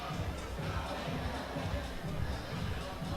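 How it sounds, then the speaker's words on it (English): A crowd cheers at a national climbing championship semifinal, a loud, continuous blend of voices and cheering that swells slightly in places and holds steady throughout. "You can hear the cheers of the crowd."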